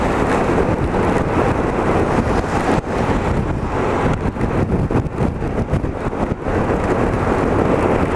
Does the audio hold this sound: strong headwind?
yes